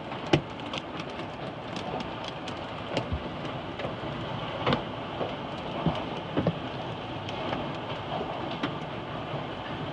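Hail falls in a dense, steady hiss on a vehicle in Vietnam, with scattered sharper ice-pellet impacts ticking through a roughly ten-second stretch and no voices.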